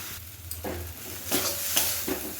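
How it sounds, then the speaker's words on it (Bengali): Spice masala sizzling in a pan, with short bursts of frying as a spatula stirs and scrapes through it every half second or so; close and moderately loud, no talking. "মশলাটা কিন্তু কষে নিয়েছি"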